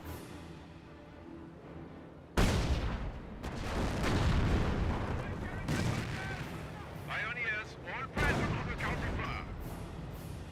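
A Werfer rocket artillery barrage in the World War II strategy game Company of Heroes, with a sudden loud onset and then a dense rumble of booms and crackling impacts, heard under a commentator's voice.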